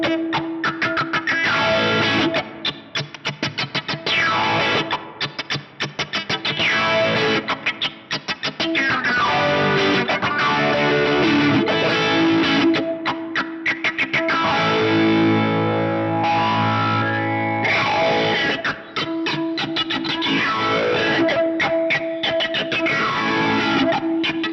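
Heavily distorted electric guitar run through a Touchwire effects unit in mix mode, set for the tone of a well-known song, playing a continuous funky riff with filtered, wah-like sweeps, loud and close, with no voices.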